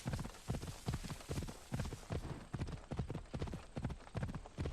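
Horse galloping in the video game Assassin's Creed Odyssey, its hooves drumming a fast, steady rhythm of clear, close beats that runs without a break from start to finish.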